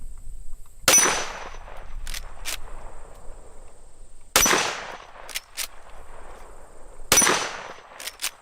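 A .44 Magnum revolver firing 300 grain Black Hills jacketed hollow point rounds: three loud, sharp shots spaced a few seconds apart, each followed by a ringing decay and short metallic clanks.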